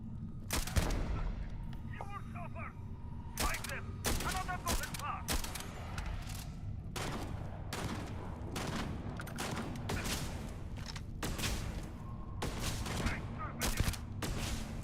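Gunfire from the Starfield video game rings out in repeated sharp bursts and rapid volleys throughout, loud and close, with brief gaps between shots.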